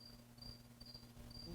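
Crickets chirp in the evening outdoors, a faint, steady trill pulsing in short bursts over a low background hum, with no voices.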